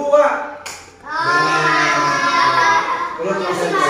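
Children in a classroom coding lesson clap together on a teacher's count, a burst of hand claps rising after a short pause, with children's voices chattering over and around the clapping.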